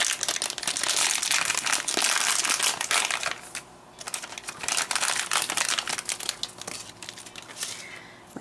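Crinkly plastic blind bag for a Teeny Freaks mystery minifigure being handled and opened, loud, close crackling and rustling in bursts with a short quieter pause in the middle, no voices.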